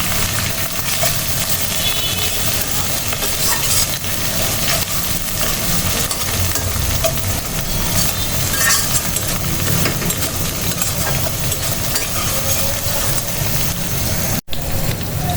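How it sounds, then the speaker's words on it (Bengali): Onions frying in a pan with two handfuls of peas just added, part of a mung dal and chicken curry, give a steady, continuous sizzle that holds at an even level throughout, with no voices. "পেঁয়াজটা ভাজা হয়ে আসছে। আমার কাছে মটরশুঁটি ছিল, আমি এখানে 2 মুঠি মটরশুঁটি দিলাম।"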